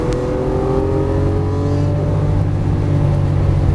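A Lamborghini Aventador LP700-4 in sport mode accelerates hard in fourth gear, its loud, steady engine roar building continuously from start to finish with rising harmonic tones and no talk over it.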